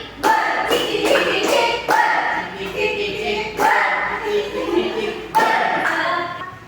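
Schoolchildren in a classroom clap in counted rhythmic groups, sharp bursts of claps separated by brief pauses, with a teacher's voice calling out between them.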